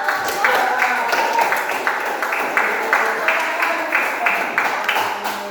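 Students in a classroom clap their hands together in a steady, rhythmic pattern of repeated bursts, fairly close and loud, with voices underneath.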